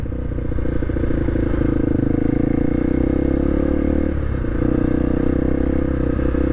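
A 1998 Honda XR 250R rides along at about 30 km/h, its single-cylinder engine a loud, steady close thrum with slight shifts in pitch and a faint mechanical rattle, no talking.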